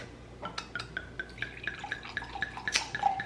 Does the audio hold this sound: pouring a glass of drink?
yes